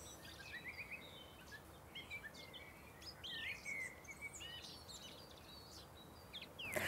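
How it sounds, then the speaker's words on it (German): Birds chirp and twitter outdoors on a spring day in front of an old Romanesque village church in Klein Schöppenstedt, with scattered high calls over a steady, faint insect-like hiss and no voices. "Über mir fliegen und zwitschern die Vögel."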